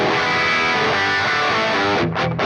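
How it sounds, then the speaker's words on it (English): Electric guitar in standard tuning with humbuckers, run through the Two notes Genome Thug distortion preset, gives a dense, sustained distorted chord ringing steadily, then choppy muted stabs at the end; no talking. "So this is standard tuning humbuckers with the Thug,"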